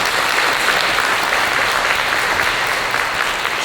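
Concert audience at a youth string ensemble performance breaking into applause: a dense, even wash of many hands clapping at once, steady and fairly loud throughout with no talking over it.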